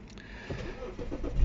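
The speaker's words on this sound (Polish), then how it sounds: "System bezkluczykowy, czyli zapalamy samochód sobie tak" A BMW 530d E60 diesel sedan fires up via keyless push-button start, a low engine rumble building from quiet into a steady idle with rising pulses toward the end, close by and fairly soft.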